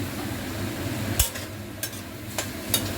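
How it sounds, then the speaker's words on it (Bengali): Five green chillies are lightly frying in a pan with a soft, constant sizzle. A few sharp clinks and scrapes of a utensil against the pan break in now and then. "এটাকে এবার হালকা করে ভেজে নিব। এখানে আমি 5টা লঙ্কা দিয়ে দিলাম,"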